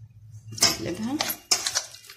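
A metal utensil scrapes and clinks against a pan while chicken pieces are turned among other ingredients, giving two short, close bursts of clattering with brief sizzle and handling noise between.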